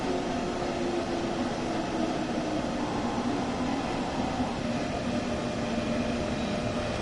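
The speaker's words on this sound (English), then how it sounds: "Now it's time for us to stop, so we're going to use the brakes a little bit more" A Dresden tram in Train Sim World 2 brakes toward a stop, giving a steady, fairly faint mechanical rumble and hum with a low drone and no talking.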